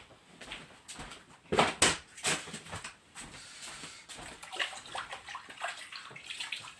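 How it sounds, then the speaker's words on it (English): Hands being washed under a running tap, a steady hiss of flowing water broken by splashes and sloshing as the hands move through the stream, close and moderately quiet. "Wash my hands."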